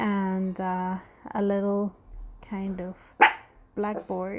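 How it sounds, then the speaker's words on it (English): A dog barks in repeated loud, close bursts, about six barks with short pauses between them, while a person speaks briefly. "Sorry about the dog."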